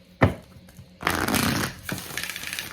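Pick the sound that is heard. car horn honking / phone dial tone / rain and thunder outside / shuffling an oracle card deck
shuffling an oracle card deck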